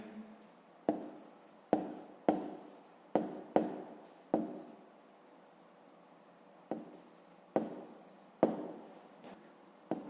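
Pen or pencil writing by hand on paper in a maths exercise book, heard as repeated short scratchy strokes in bursts separated by brief pauses, close and fairly quiet in a still room.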